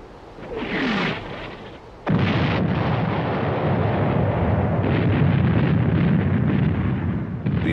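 World War I artillery bombardment: a distant boom and rumble, a sharp heavy blast, then a dense, sustained roar of continuous shelling that stays loud to the end.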